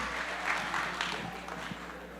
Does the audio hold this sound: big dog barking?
no